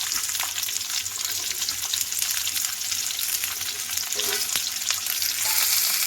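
Onions sizzle and fry steadily in hot mustard oil with cumin seeds, a dense, continuous close-up crackle with occasional stirring scrapes, no voices.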